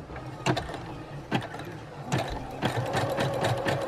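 A Brother sewing machine running a zigzag stitch gives a steady mechanical whir with rhythmic clicking and ratcheting, fairly quiet and close, with no voices.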